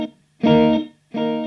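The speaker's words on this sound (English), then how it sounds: "It's a really kind of early reflection sound now." Two sustained electric guitar notes through an MXR Joshua echo pedal, each stopping abruptly with almost no lingering echo, leaving near silence between them.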